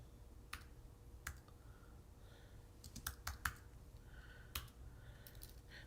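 Scattered keystrokes on a computer keyboard, a few isolated taps then a quick cluster of clicks, quiet and close with no talking.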